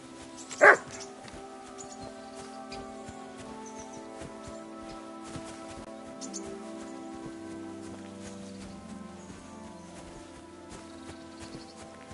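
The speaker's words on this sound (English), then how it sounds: "Barking." A single dog bark rings out in the medieval game Kingdom Come Deliverance 2, one sharp call near the start over a steady bed of ambient music and background sound, with no talking.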